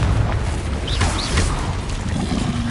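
Confringo spell blasts in Hogwarts Legacy, booming fiery bursts with whooshing magical streaks over a dense, loud battle rumble, heard up close.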